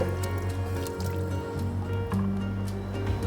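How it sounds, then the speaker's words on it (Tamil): Water is poured into a pot of sautéed vegetables for a one-pot veg biryani made with seeraga samba rice. It gives a steady liquid rush with a constant tonal hum behind it throughout. "காய்கறி நல்லா வதங்கினதுக்கப்புறம் தண்ணி சேர்த்துக்கிறேன்"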